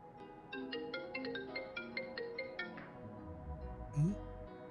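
A phone rings with an incoming call, a melodic electronic ringtone of quick repeating notes that plays for a few seconds, fairly soft, followed by a brief low thump and rustle.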